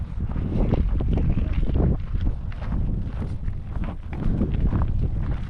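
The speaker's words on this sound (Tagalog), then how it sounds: "Mahangin. Ang ganda ng hangin." Strong gusty wind buffeting the microphone on a mountain farm in Bakun, Benguet, Philippines, a loud continuous rumble that rises and falls, with no clear voices.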